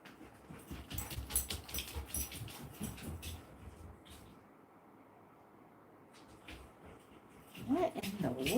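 A dog on an off-grid homestead whimpers and pants in short, soft bursts. There are brief quiet gaps, a louder whine near the end, and light background noise.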